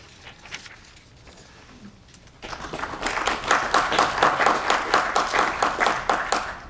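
Audience at a civic State of the City event breaking into applause, which starts suddenly after a quiet stretch and builds into loud, steady clapping that continues to the end.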